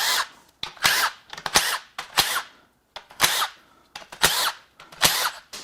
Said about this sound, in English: Let's go ahead and unbolt the lower oil pan